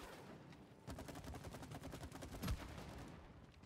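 Gunfire while shooting at a target in It Takes Two: rapid, evenly spaced shots in a steady burst, faint and a little distant, with one brief louder hit near the end and no speech.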